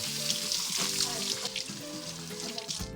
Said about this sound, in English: Water's boiling, pasta's going in.